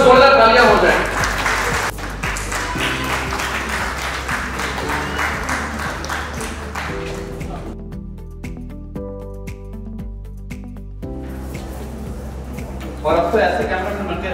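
Applause from an awards ceremony audience, loud at first and mixed with music and chatter, fading into a quieter musical stretch before clapping swells again at the end.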